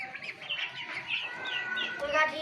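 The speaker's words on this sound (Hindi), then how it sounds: "ये हमारे 25 चिक्स हैं।" About twenty-five young chicks on a small farm cheep and cluck continuously close by, a busy overlapping chorus of high peeps with faint background noise.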